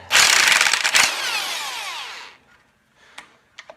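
A power tool loosens the pressure plate bolts on a Massey Ferguson 231 tractor during an engine teardown: one loud, close, whirring burst of about two seconds that winds down, then a few faint clicks and taps.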